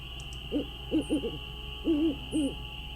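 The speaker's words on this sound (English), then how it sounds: "Just like an owl," An owl hoots in the video game Nancy Drew: Ghost Dogs of Moon Lake. Several soft hoots come in two short clusters over a constant high ambient whine.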